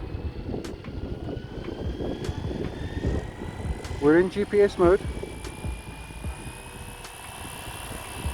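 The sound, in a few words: Bell 206 helicopter starting up, tail rotor pitch change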